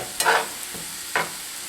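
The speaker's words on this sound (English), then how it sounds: "we've let this simmer and sizzle for about 3 or 4 minutes" Food sizzles softly in a pan, with two brief stirring scrapes breaking through the steady low crackle.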